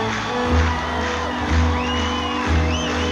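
Large baseball crowd at Fenway Park roaring for the final out of a 1990 Red Sox game, a loud, continuous cheer with whoops and shouts swelling in repeated surges, with music mixed in.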